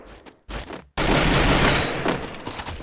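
Video game gunfire in a tournament match, with a short burst, a brief pause, then a loud sustained volley of rapid shots that fills the rest of the moment.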